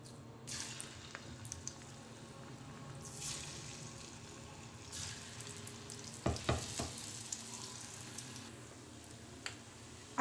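Pakoras frying in oil over a slow flame, a steady low sizzle with faint bubbling, a few sharper crackles and a brief spatter near the end, close by and without voices.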